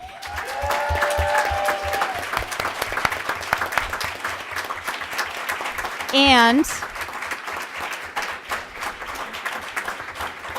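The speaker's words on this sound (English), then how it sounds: "well-deserved applause" Audience at a Fremont Unified school board meeting applauds the 2018 Teacher of the Year, with steady, dense clapping filling the room, a short whistle-like sweep partway through, and a voice briefly speaking at the end.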